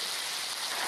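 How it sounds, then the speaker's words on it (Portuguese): Rain falls in a children's story as a soft, steady hiss of dense drops that stays even and faint for a brief moment without voices. "É a chuva, vai chover."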